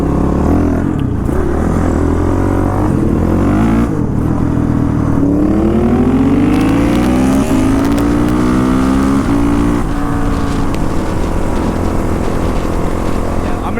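Motorcycle ridden near a lake: a continuous engine drone that rises in pitch as it accelerates through the gears, close and loud, with wind noise throughout.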